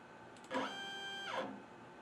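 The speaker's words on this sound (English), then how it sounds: "I'll run this down to 1/4 of an inch and see if the Z moves" X-Carve CNC router's Z-axis stepper motor, upgraded on a February 2016 machine, whirs in a brief tonal whine that rises, holds steady for under a second, then falls away, fairly quiet in a still room.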